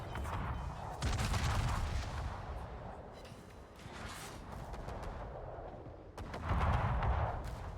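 Secondary guns aboard a warship in World of Warships fire at enemy ships, producing rumbling, overlapping booms and crackling volleys that swell and fade in repeated waves at moderate volume.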